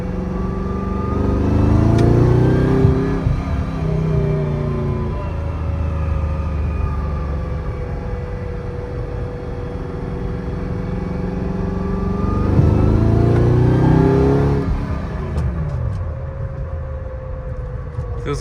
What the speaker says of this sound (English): I'm gonna take it for a test drive, make sure everything sounds good.